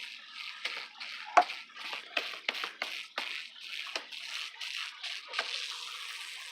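Water sloshes and splashes in a turtle tank as sand is stirred and rinsed by hand, with repeated short splashy bursts over a steady wet wash, close and fairly quiet, no voices.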